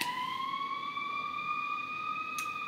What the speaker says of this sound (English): I live right by a hospital, y'all, so we hear ambulances a lot.